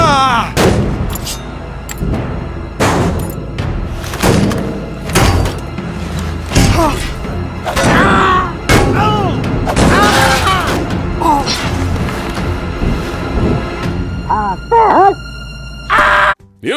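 Bomb blasts boom one after another, a rapid series of loud, sharp explosions with ringing tails, mixed with shouting voices between the bursts.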